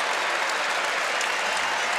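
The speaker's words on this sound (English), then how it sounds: "Gets a nice hand from the crowd" A basketball arena crowd at a Syracuse vs. Georgetown college game applauding a player fouling out, steady sustained clapping from many hands throughout, with no speech over it.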